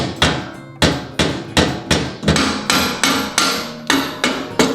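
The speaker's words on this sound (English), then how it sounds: "Hammer the back." Steady, forceful hammer blows ring out on metal while working on a Grom motorcycle's 300cc engine swap, about two strikes per second, close and loud with a metallic ring after each hit.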